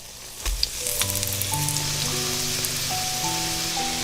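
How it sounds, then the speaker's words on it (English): A breaded egg sandwich fries in a pan with a steady, close sizzle that continues for the whole stretch, with faint sustained background music beneath it. "Now you can fry the second sandwich."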